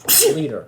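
A single sharp sneeze bursts out close by, with a short voiced tail after it and a voice speaking around it.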